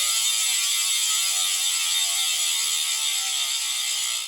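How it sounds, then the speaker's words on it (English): A bicycle rear hub freewheel with 54 points of engagement ratchets in a fast, dense, continuous buzzing click, close and steady with no voices. "the 54 POE changes the sound of that rear hub, bringing it closer to the distinctive noise of that high engagement POE"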